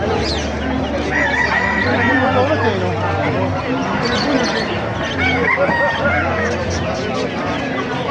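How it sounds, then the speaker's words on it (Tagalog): Several roosters crow repeatedly among clucking chickens at a market in Calumpit, with people talking in the background, close and loud. "Daming manok dito"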